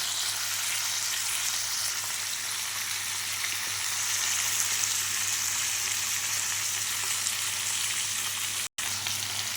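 A small red onion and a tomato fry in a pan, giving a steady, close, even sizzle that runs unbroken except for a brief cut near the end.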